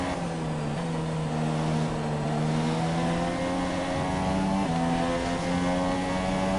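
A Formula 1 car's engine from the F1 2017 racing game at the Austrian Grand Prix holds a steady, loud, high-pitched drone with a slight pitch shift near the end as the car slows toward the pits.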